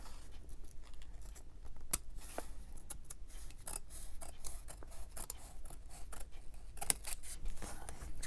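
Scissors snip steadily through junk mail envelope paper, a run of quiet, close, crisp cuts with light rustling between them and no voices.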